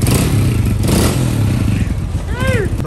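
A motorcycle engine runs loud and close throughout, with a steady low drone and rough clattering texture, while a voice talks over it.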